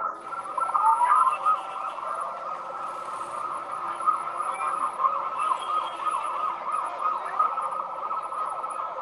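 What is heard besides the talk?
police car siren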